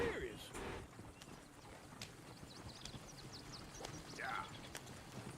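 Horse hooves clip-clopping in Red Dead Redemption 2, a soft walking rhythm under game dialogue, with a brief spoken word and faint bird calls around.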